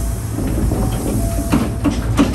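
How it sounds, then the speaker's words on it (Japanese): A Hankyu Kyoto Line semi-express train pulls away from Katsura Station, its steady rumble and hum joined by a few rhythmic wheel clacks and a faint hiss as it gathers speed. "さあ準急列車が桂駅を発車。"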